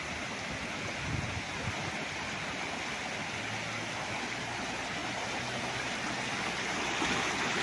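Creek running through a farm property near a highway in Siniloan, Laguna, a steady broadband rushing and babbling of water, continuous and close, with no voices.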